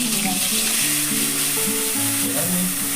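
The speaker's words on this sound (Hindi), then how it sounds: "ये प्याज जाएगा, प्याज पीस के बना लिया।" Ground onion paste hits hot oil with bay leaf, cardamom and cinnamon in a pan, giving a loud, continuous close sizzle with some stirring scrapes.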